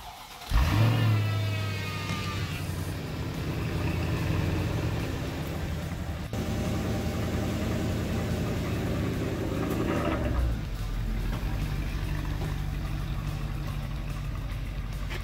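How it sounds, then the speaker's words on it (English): A supercharged Mercedes-AMG V8 with 520 horsepower, in a garage bay, fires up and revs loud and close. A deep rumbling roar holds steadily, with the pitch rising on the throttle blips before it settles back into a heavy idle. "car sounds so good"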